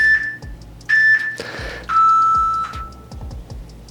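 A workout timer gives several clear electronic beeps, with two higher-pitched tones followed by a longer, lower one, sounding close over faint thumps and movement.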